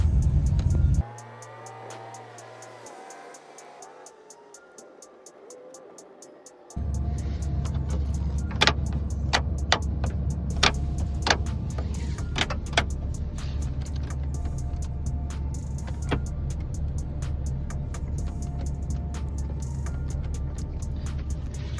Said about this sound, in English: It's an older plow truck, so there's some finicky things to it